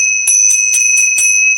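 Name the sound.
Tibetan ting sha bells being struck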